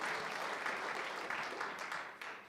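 A church congregation claps together in praise, a brief, fairly soft and dense burst of applause with a few sharper claps standing out, heard from some distance.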